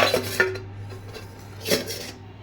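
A lid goes onto a pot of cooked bitter gourd, with a few close metallic clinks and scrapes early on and another clatter near the end.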